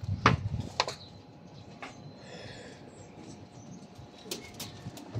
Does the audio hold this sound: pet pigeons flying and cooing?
yes